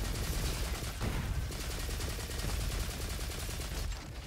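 Rapid rifle fire in the shooter Roboquest, a dense, loud stream of shots rattling on without pause across the whole stretch, with a short break near the one-second mark.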